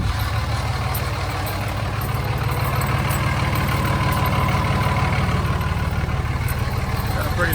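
A Dodge Ram's Cummins diesel engine idles close by with a deep, steady, throbbing clatter and a faint rattle from the exhaust running underneath.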